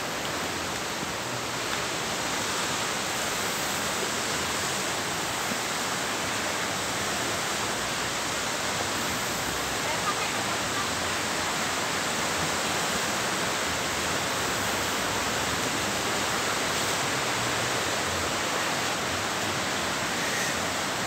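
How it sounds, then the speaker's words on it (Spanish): A river flows steadily along an eroding bank beside a riverside community, giving a continuous broadband rushing wash that holds even and fairly loud for about twenty seconds with no talk. "Aquí en la orilla del río."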